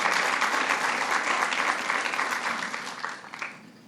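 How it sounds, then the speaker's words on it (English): An audience applauds after a governor's speech on childcare, a full, even burst of clapping that holds steady and then thins out toward the end. "let's give Congressman Espana a special round of applause for being the champion when we needed one"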